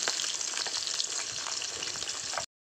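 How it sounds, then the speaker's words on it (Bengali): Fish, rohu (katla) pieces, frying in oil in a home kitchen, giving a steady, loud crackling sizzle with scattered pops that runs unbroken for about two and a half seconds before stopping abruptly, no voices. "মাছগুলো ওদিকে ভাজা হতে থাক"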